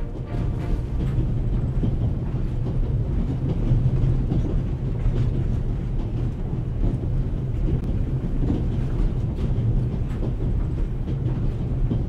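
A train rolls along steadily in the adventure game The Raven, giving a continuous low rumble with faint clicking from the rails. The noise stays even and close throughout, with no voices over it.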